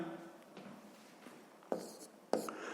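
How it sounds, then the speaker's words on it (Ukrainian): Pen or pencil writing out a sixth-grade math exercise by hand on paper, faint scratchy strokes with two sharper taps near the end, quiet and close. "записуємо тоді друге завдання"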